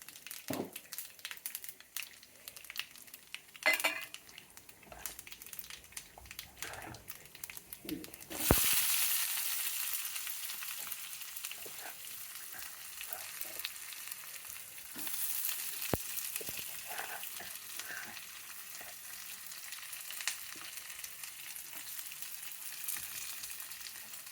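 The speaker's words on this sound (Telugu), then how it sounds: "కాయగా చిక్కుడుకాయకి వేపుడు కాబట్టి దీనికి ఈ పోపు ఉంది" Mustard seeds, cumin and lentils tempering in hot oil for a flat bean stir-fry, crackling and popping lightly at first, then swelling into a steady, fairly loud sizzle that holds to the end.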